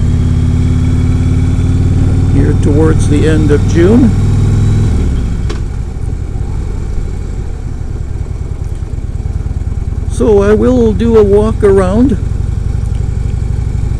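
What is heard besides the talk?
motorcycle engine while riding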